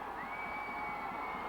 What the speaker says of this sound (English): The Bolingbrook crowd cheering